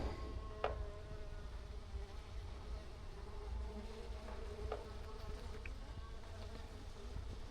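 Honeybees drone in a continuous low buzz during a February hive removal, with a few individual bees passing close and louder now and then.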